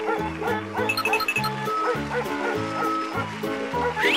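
A dog barks in a steady run of sharp, evenly spaced yaps, loud and close, with faint whimpering between some barks.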